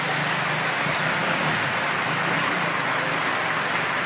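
Heavy rain pours steadily and loudly during the rainy season in São Luís, Brazil, a dense, continuous hiss with no voices.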